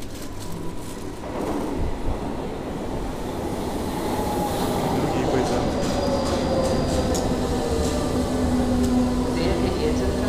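An electric commuter train in Berlin rumbles steadily at close range, with a broad rolling roar and faint rising electric whine; a voice speaks briefly near the start.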